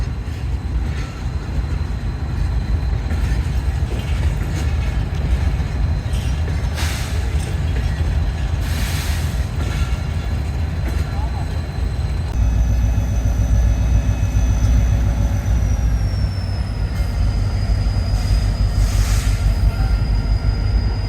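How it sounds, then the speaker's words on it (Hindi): The Awam Express (Awam Hazara) 11 Up passenger train pulls out of Rohri station, a continuous low rumble of wheels and carriages with faint metallic squeals and a brief whistle-like tone partway through, growing a little heavier later on. "ये अवाम हज़ारा जो है 11 अप वो डिपार्चर कर रही है।"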